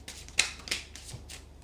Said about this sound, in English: I will shuffle them again on camera